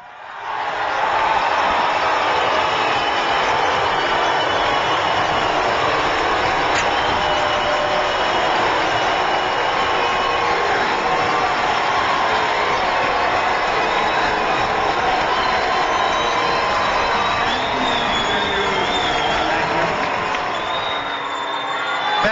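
A large crowd at a town hall health care meeting cheers and screams in a loud, sustained roar that barely lets up across the whole stretch.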